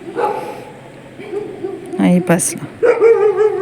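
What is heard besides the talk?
dog barking by the roadside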